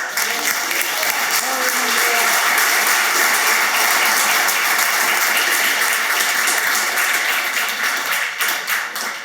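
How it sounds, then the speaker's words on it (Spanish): A church congregation applauds together at a Sunday worship service, a dense, loud, sustained clapping that fills the whole stretch and thins slightly at the very end. "Denle un aplauso al Señor"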